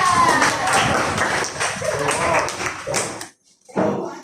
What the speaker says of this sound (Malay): Bagi tepuk tangan.